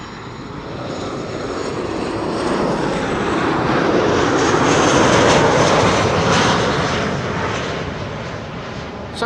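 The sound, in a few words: Transavia airliner arriving at Amsterdam Schiphol Airport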